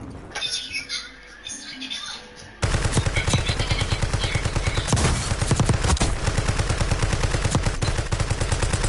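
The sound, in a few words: gunfire in the video game Warzone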